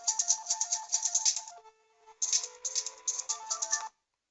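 A mobile phone rings with an incoming multi-factor authentication call, a tonal electronic ringtone in two clear bursts split by a short gap, close and fairly loud with no talking.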